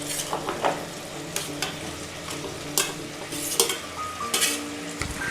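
Vegetables with potato and pumpkin are stirred and fried in a pan over a low flame for a simple vegetarian thali. A soft sizzle runs underneath as repeated spatula scrapes and clinks come through clearly, with no talking.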